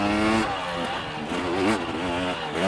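A KTM 300XC-W TPI two-stroke dirt bike pounds through a run of whoops, its engine loud and close, revs rising and dipping rapidly as the throttle works over each bump.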